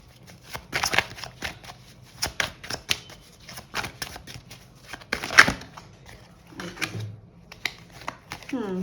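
Tarot cards are shuffled and handled at close range during a monthly horoscope reading, producing rapid riffling flutters and crisp snaps of cards laid down. Someone talks over the card sounds.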